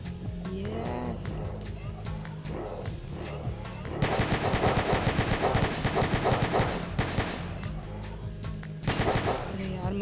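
Rapid bursts of gunfire in a Roblox zombie survival game, loud cracking volleys clustered mid-clip and again near the end, with a player talking over the action.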